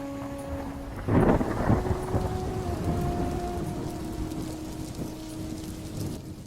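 Heavy rain pours steadily while a close thunderclap cracks and rumbles near the start, with rain continuing loud throughout and no voices.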